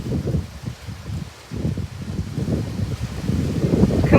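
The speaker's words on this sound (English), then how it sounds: "Dust storm is coming in though" Gusty wind from an approaching haboob dust storm in Phoenix, Arizona, buffets the microphone with a low, rumbling roar that swells and eases in waves, louder toward the end.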